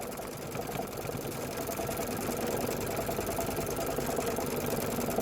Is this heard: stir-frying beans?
no